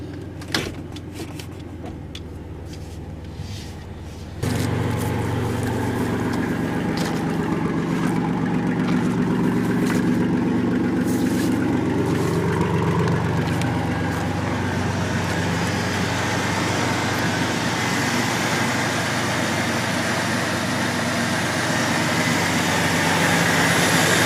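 A Pontiac Firebird V6 engine starts after a battery change and settles into a steady, loud, close running drone that holds for over twenty seconds. Before it, brief clicks and scraping come from the engine bay.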